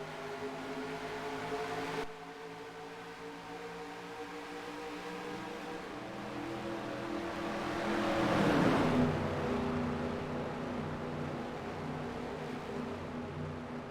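Race cars in the NASCAR Racing 2003 video game roar back up to speed on a restart after the green flag, a steady engine drone swelling as the pack surges past around the middle, then settling into a continuous hum.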